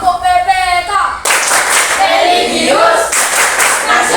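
A group of people claps out the Tepuk PPK chant in a school classroom session, with loud rhythmic bursts of hand claps running together. Voices are heard at the start.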